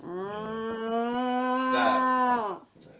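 Cow mooing sound effect, a single long, loud, close moo that rises slightly and fades after about two and a half seconds, heard on its own.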